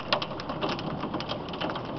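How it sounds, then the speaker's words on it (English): A sudden hailstorm pelts surfaces with a dense, steady patter of hailstones, loud and continuous throughout with no talking. "Freaking hailstorm."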